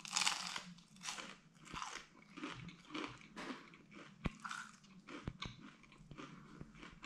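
Crunchy vegan fast-food nuggets being chewed up close, with a run of sharp, crackling bites and crunches spread evenly throughout, no talking.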